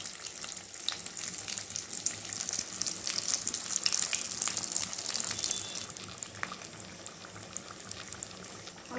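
Samosas deep fry in a pan of hot oil, giving a faint, continuous bubbling sizzle with small crackles that eases slightly near the end, with no talking.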